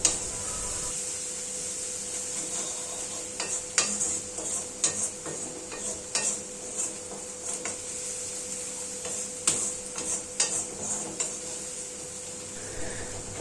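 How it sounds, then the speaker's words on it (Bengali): Onions cooking down in a pan with salt for an egg curry with curry leaves: a steady close sizzle runs throughout, broken by repeated scraping taps of a stirring spoon at an uneven rhythm, with no talking. "পেঁয়াজটা ভালোভাবে কষা হয়ে গেলে"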